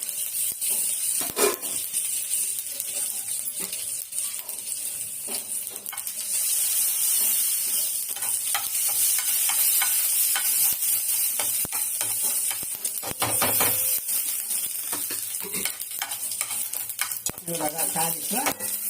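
Steady crackling sizzle of asafoetida, dried red chilli and curry leaves frying in hot oil for coriander chutney, continuous and close, with occasional scraping and clinking of a utensil in the pan.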